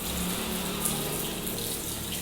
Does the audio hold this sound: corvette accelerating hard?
no